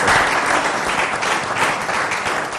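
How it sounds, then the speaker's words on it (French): Church congregation applauding after a testimony at a service, steady dense clapping from many hands at a fairly loud level throughout, with no talk over it. "Alors, on peut applaudir quand même pour ce témoignage."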